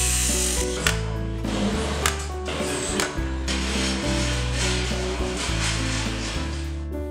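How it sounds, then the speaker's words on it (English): A fusion welding machine pressing window frames together under nearly two tons of pressure, giving a steady mechanical hum with repeated clunks and ratcheting clicks in a factory setting, with no talking. "Fusion welding uses nearly 2 tons of pressure to join frames for seamless, waterproof corners and unsurpassed strength."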